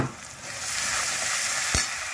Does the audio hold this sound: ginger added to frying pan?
yes